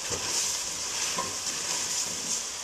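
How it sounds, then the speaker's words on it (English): Beef stew with potatoes, deglazed with wine in a pressure cooker pot, is stirred, giving a steady soft bubbling sizzle with faint scraping, close and even throughout. "I'm going to stir it around a little bit."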